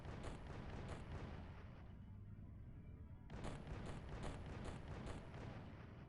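Gunfire at an enemy in the video game X-Piratez, a dense run of booming, crackling shots that pauses briefly and then resumes with sharp repeated bursts, loud and close with no talk.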